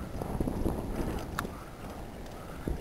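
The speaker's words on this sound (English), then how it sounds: "It's getting pretty windy here." Steady wind buffeting a microphone outdoors at Bather's Beach and Inner Harbor by the water, a broad rumbling gust noise that stays constant throughout with a few brief knocks.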